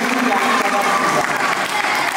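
Loud, dense audience applause at a youth summer camp gathering, continuous clapping with voices mixed in across the whole burst.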